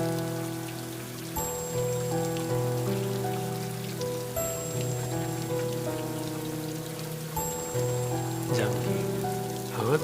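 Steady rain patters continuously throughout a horror story scene, moderately quiet and unbroken, layered under a low sustained musical drone with no voices.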